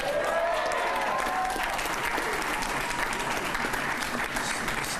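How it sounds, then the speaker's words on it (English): A crowd at an Ohio Democratic Senate nomination event applauds Steve, a firefighter, in a steady, dense wash of clapping that holds for the full five seconds. "Give Steve a round of applause"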